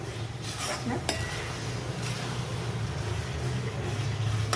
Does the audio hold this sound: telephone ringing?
no